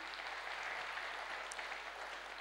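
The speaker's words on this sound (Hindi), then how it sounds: "तालियां बजाइए अपने लिए।" Dense applause from a crowd, steady clapping that fills the whole moment with no voices over it.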